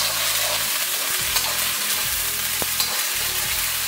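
Onion and capsicum fry on a high flame for chilli chicken, a loud, dense, continuous sizzle with faint stirring scrapes underneath, close and constant with no talking.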